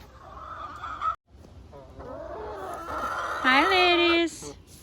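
Backyard hens cluck and chatter in their coop, with a rooster also kept among the flock; the birds call in rising and falling bursts, growing louder near the end, while a person talks over them.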